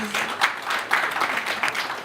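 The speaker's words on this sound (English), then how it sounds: "A round of applause for him, please." Audience applause at an association general meeting, a steady wash of clapping throughout with a faint voice briefly audible near the start.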